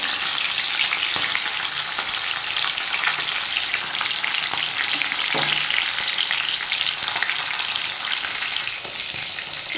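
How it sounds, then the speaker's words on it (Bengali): A halved fish head fries in hot oil, giving a steady, dense sizzle and crackle throughout with no one talking. "আমার তেলটা গরম হয়ে গেছে আমি মাছের মাথা দিয়ে দিয়েছি"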